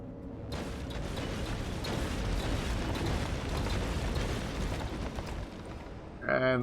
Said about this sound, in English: those are the tourists exploding for some reason that doesn't concern me